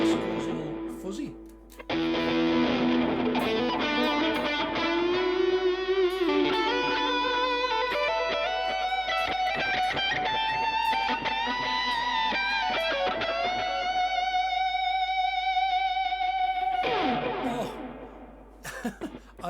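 An electric guitar played through the GigFast Lite neural amp model on an iPad, with the drive maxed, rings out in loud, fuzzy, distorted sustained notes that bend and slide in pitch, with a brief strummed start and end.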